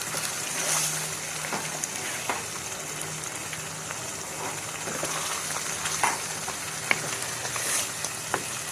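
Potatoes, half a kilo, tipped into spinach frying in a pan for an aloo palak and fenugreek curry, giving a steady close sizzle with scattered clicks and stirring knocks, no voices.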